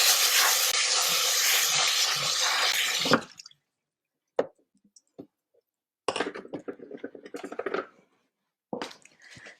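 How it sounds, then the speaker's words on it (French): Rice rinsed under a running tap, a loud steady gush of water for about three seconds, then bursts of splashing, squishing and dripping as the grains are swirled and drained. "Je vais rincer le riz"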